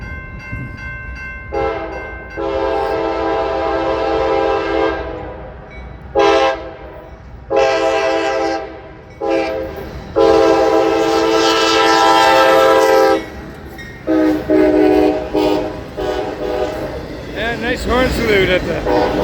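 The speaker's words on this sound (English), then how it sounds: "Alright, auto racks and double stack intermodal." A CSX freight train carrying auto racks and double-stack intermodal containers passes at the Folkston Funnel, Georgia, sounding its horn in repeated long, loud blasts over the steady rumble of the cars, with brief talk mixed in.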